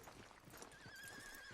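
A horse in the video game Red Dead Redemption 2 whinnies in a rising and falling neigh over faint hoof clatter and a steady background hum.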